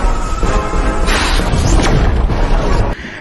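Animated sword-released aura explosion: a dense, roaring blast with deep rumble and bright crackle, sustained loudly for about three seconds before cutting off abruptly.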